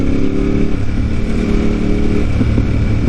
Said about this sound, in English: Oh, that's a Can-Am.